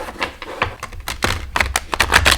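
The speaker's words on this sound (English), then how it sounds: "if I can do a bridge shuffle with this" A thick tarot card deck is bridge shuffled close up: a quick burst of clicky, uneven card riffling and snapping.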